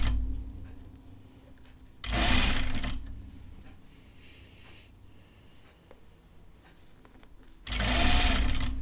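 Home sewing machine stitching a tunic seam through fabric, with two loud bursts of fast mechanical stitching separated by a quieter stretch of handling and rustling.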